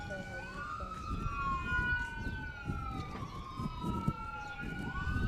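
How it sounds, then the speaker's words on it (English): Emergency vehicle sirens wail past Battling Billy Field during a Fredericksburg vs Boerne high school baseball game, several overlapping rising and falling tones, fairly distant and steady, while voices talk beneath them. "a familiar sound at Battling Billy Field, the sirens going by the field."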